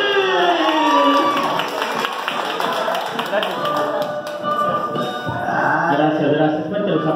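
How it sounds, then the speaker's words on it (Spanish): Adult party guests clap and cheer for a clown performer at a bachelorette-style party, a lively mix of rapid applause and excited shouting voices, loud and close throughout. "Fuerte los aplausos para mi novio."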